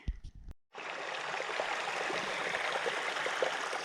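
A Carpathian mountain stream flows steadily nearby, a continuous broadband rush of water that starts after a brief pause and holds even through the rest of the clip.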